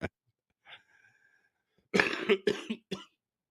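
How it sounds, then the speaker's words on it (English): A single sharp cough, then a short pause and a burst of three or four rough coughs close to the microphone. "I got a cough."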